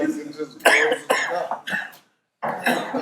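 A man coughs in short rough bursts during a drinking session, the coughs running together with his own speech before a brief silence and another burst.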